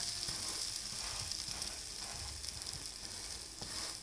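Mutton kari dosai sizzles steadily on a hot Madurai street-food griddle after being flipped, a continuous close crackling hiss with no talking.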